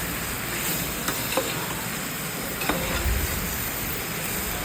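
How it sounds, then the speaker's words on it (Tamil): Chicken for biryani sautés in a pan, giving a steady close sizzle with a few faint stirring scrapes and no voices. "பிரியாணி செய்கிறதுக்கு சிக்கனே போட்டு நல்லா வதக்கிட்டு"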